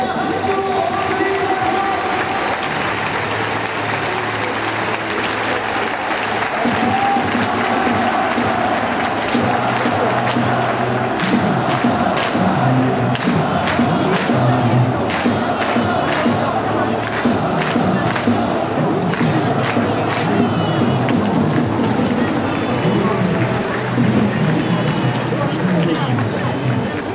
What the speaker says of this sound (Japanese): それでは長野選手に今井翔盛大な拍手をお送り